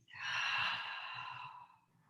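One long, audible breath out, close to the ear, taken while holding a downward-facing dog pose during a gentle yoga flow; it swells quickly, then trails away softly.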